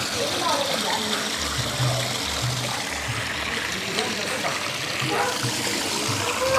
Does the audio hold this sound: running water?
yes